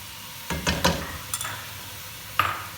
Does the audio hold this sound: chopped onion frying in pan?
yes